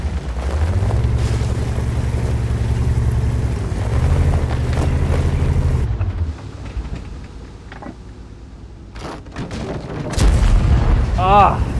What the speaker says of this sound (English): Artillery there, of course,